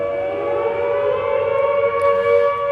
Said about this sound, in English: excuse the air raid siren going off